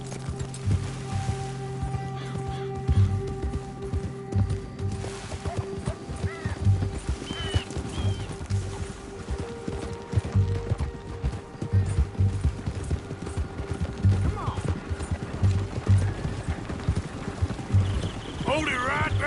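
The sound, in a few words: horse galloping in Red Dead Redemption 2 video game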